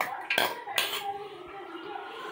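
A large chopped onion is tipped into a bowl, giving two quick clattering knocks close by, followed by quieter sound with faint talk.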